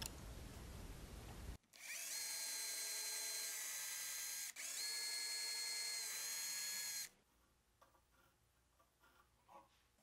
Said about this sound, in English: then pre-drilling the holes